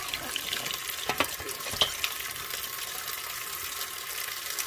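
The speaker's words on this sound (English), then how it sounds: "I'm going to go ahead and wash the first 6 cups" Blueberries are rinsed under a running kitchen tap, with a steady close hiss of water and a few clinks and sloshes from the berries and the bowl.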